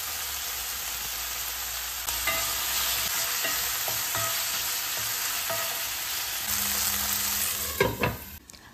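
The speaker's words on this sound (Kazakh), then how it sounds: "Дәміне қарай қара бұрыш, паприка, томат пастасын салып жақсылап қуырып" Chicken fries with black pepper, paprika and tomato paste in a hot pan with a loud, continuous sizzle. Spoon scrapes and stirring knocks sound close up, with a few sharper clatters near the end.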